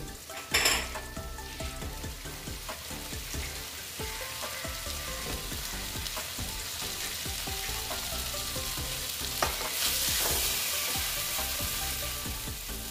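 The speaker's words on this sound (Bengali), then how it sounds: "আলুগুলো দিয়ে এটা আবার ভেজে নিচ্ছি।" Potatoes frying with soybean and chickpea dal in a pan, a steady close crackling sizzle with intermittent scrapes and knocks of a stirring utensil, swelling into a louder hiss near the end.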